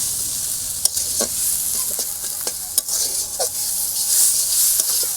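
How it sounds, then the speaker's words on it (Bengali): Malabar spinach leaves with salt and turmeric stirred and fried in a pan, a constant close sizzle broken by several sharp scrapes and knocks of a spatula against the pan at irregular intervals, no talk. "এবার নেড়ে চেড়ে শাকটা ভালো করে ভেজে নেবো।"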